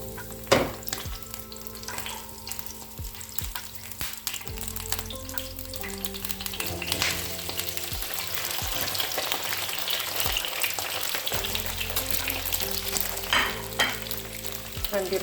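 Cut potatoes frying in hot oil in a home kitchen: a steady, close sizzle and crackle lasting throughout, with occasional clinks and stirring knocks, and no talking.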